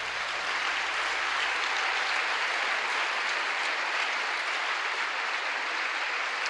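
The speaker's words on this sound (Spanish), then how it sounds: "Un aplauso general." A church congregation claps together in a steady, dense wash of applause that holds at an even level throughout, with no voices standing out.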